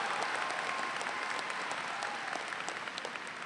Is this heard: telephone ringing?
no